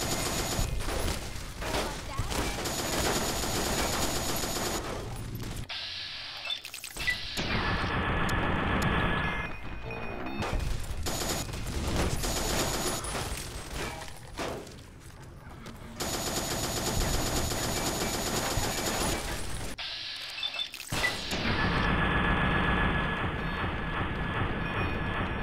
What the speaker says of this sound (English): that's me shooting Cuddles in the ass and somehow crippling his head